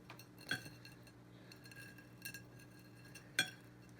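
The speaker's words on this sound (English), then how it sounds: "we're going to sort of listen to the egg, get it started cracking it, and then give it a roll" A hard-boiled egg's shell being cracked and rolled on a surface, a few sharp close crackling taps spaced apart over a quiet background.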